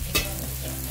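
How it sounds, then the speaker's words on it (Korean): Pork neck meat grills at home on a balcony, giving a close, steady sizzle with a brief sharp crackle near the start and no talking. "이번에는 목살을 구워보겠습니다."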